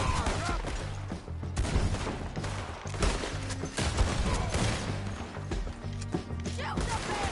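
Gunfire in a Red Dead Redemption 2 shootout at a timber site, rapid overlapping shots and cracks crowding a dense volley for several seconds, with shouting voices mixed under the barrage.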